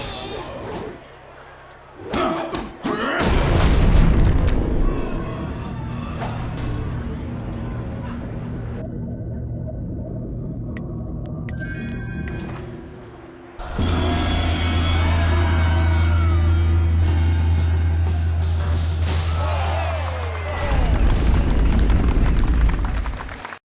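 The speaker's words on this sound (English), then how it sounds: "Paralyzing bomb." Paralyzing bombs go off during combat in the Jade Empire video game, producing loud, rumbling blasts with sharp bursts at the start. Long sustained roars and booming low tones continue in layers beneath them across the whole stretch.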